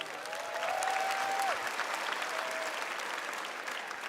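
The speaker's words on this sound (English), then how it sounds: "Let's give our contestants another round of applause." Audience applause for contestants at the Miss Universe preliminary competition after the swimsuit round, a broad steady wash of clapping from a large hall, with a brief tonal whistle or cheer rising through it early on.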